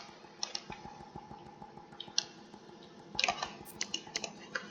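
Computer keyboard keys, including CTRL and Shift, pressed in rapid, irregular bursts of close, crisp clicks during a Gorilla Tag–style game, with louder clusters of taps toward the end.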